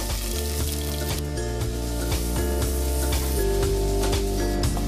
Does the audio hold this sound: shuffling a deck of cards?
no